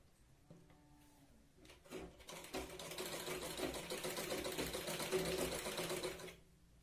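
A sewing machine runs a stitch along the neckline of a blouse, a few short starts followed by a steady close whirring run of several seconds that then stops.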